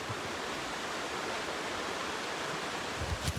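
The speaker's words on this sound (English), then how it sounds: "Pretty creek." A flowing creek in Pisgah National Forest along the Blue Ridge Parkway, a steady broadband rush of water running continuously and fairly near, with no talk over it.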